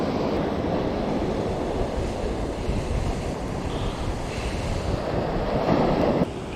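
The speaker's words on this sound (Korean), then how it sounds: "파도도 아까보다는 조금 죽은 것 같아요" Sea waves break along the East Sea coast in a continuous, loud wash of surf, mixed with wind buffeting the microphone, with a slightly stronger surge near the end and no voices.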